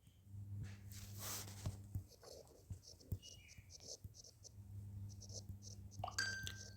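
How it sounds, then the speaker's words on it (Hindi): Pen scratching across paper during a Class 11 maths lesson on sets, short irregular strokes close by, with soft speech and background hum in between. "2 मिनट रुकिए, इसे मैं साथ में लिखता हूँ।"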